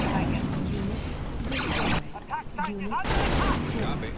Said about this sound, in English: We're going to lose all of our tanks here, because they've got artillery